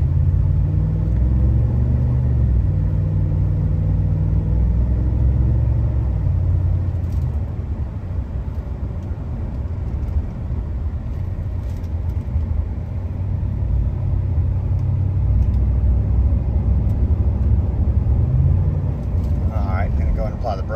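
A 2011 Ford F-150 Harley-Davidson pickup with the 6.2-liter engine drives on a road test, giving a loud, steady low engine rumble and road noise with shifts in pitch as it accelerates.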